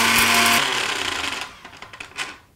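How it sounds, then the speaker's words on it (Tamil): Loud mixer grinder whirring as it powders roasted gram and poppy seeds for tomato gotsu, a steady dense motor roar for half a second that then breaks into fainter, uneven rattling bursts as it winds down. "இந்த மாதிரி நல்லா பவுடர் ஆகிற மாதிரி நம்ம மிக்சியை இயக்கி எடுக்கணும்"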